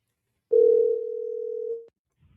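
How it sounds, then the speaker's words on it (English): A single steady dial tone from a calling app, loud and clean for just over a second before it cuts off, with no voices over it. "Let me call Songs by Alicia"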